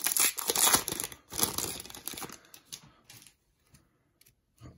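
A 2022 Donruss basketball blaster pack is torn open by hand, with a burst of close, loud crinkling and ripping foil that settles into sparse, quieter rustles and ticks.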